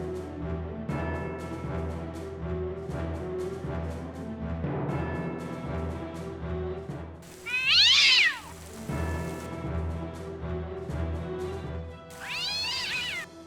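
A cat meows in a back garden, a few loud drawn-out yowls rising above steady rain pattering on surfaces, with quieter stretches of rainfall between them.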